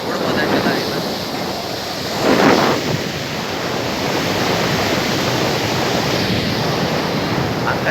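Sea waves crash against the rocks at Kovalam beach near Chennai, a steady hissing surf wash with one louder surge partway through, heard close and without voices.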